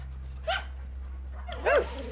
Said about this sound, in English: Now Caesar demonstrates leading Shadow calmly past the barking dogs.